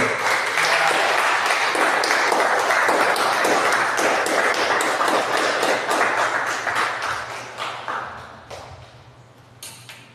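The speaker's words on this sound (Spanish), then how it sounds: "Un aplauso para el Señor." Church congregation applauding in praise, a steady crowd of clapping hands that runs strong for several seconds, then thins out and fades to scattered claps near the end.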